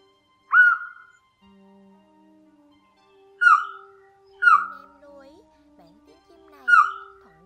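Gray-headed short-tailed bird calling, recorded as a lure call: four loud, clear downslurred whistles spaced a second or more apart, with steady faint tonal background notes between them.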